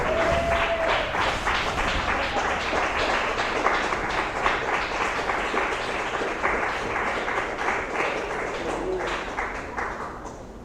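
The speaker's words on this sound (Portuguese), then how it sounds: "Pode se assentar e glorificar o Senhor com palmas bem alegres." A church congregation claps joyfully in praise, many hands clapping in a steady, fast rhythm that stays full and loud, with no voices over it.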